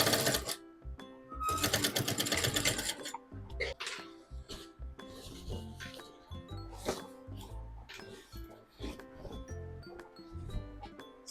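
Sewing machine stitching a blouse sleeve, with bursts of fast mechanical whirring broken by pauses, clicks and handling taps, close and fairly quiet, with no talk.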